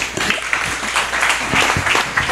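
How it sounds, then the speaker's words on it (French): Applause from a show audience at an urban music event, a short, fairly loud patter of clapping with uneven bursts and some crowd noise mixed in. "Est-ce qu'on peut applaudir très fort pour la jeunesse qui ose"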